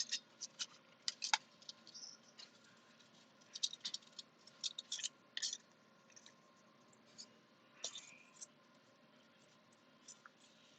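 Scissors trim the edges of a sublimation print in a quiet room, giving faint, irregular snips and paper rustles in short clusters, close to the listener, with no talking.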